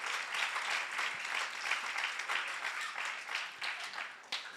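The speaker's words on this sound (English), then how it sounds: "Give a wonderful hand of applause to Jesus." A church congregation applauds steadily and fairly faintly, a continuous wash of many hands clapping throughout with no talking over it.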